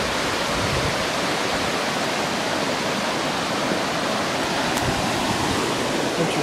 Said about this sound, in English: you see where the water comes down here